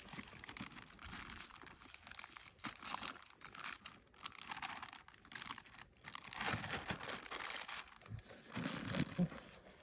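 Quiet crinkling and rustling of a plastic bag being handled close by, used to hold an inflatable SUP board, irregular crackles and scrunches continuing throughout without speech.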